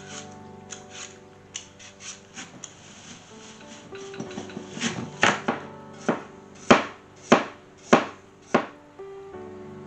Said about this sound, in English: So I'm going to peel, core, and chop some apples.